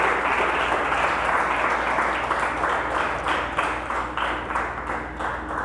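A congregation at a church sermon breaks into sustained applause, a dense roomy wash of clapping that stays fairly loud and slowly thins toward the end.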